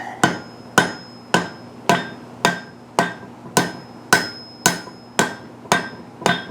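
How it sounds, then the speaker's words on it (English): Hot steel hammered on an anvil to forge a trivet foot, a dozen sharp, ringing metallic blows at a steady rhythm of about two per second, close and loud with no talk. "I'm going to hammer down into that shoulder, and you guys can see the little foot that it's making."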